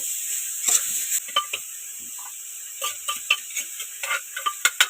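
Minced pork stir-frying in its own fat for Thai basil pork, a bright continuous sizzle broken by repeated sharp scrapes and taps of a spatula against the pan, no talking.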